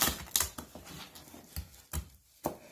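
A knife chops lobster into small pieces on a board, sounding as a series of distinct close knocks with short irregular pauses between them.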